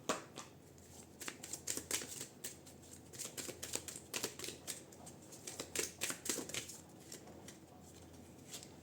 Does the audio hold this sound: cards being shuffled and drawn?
yes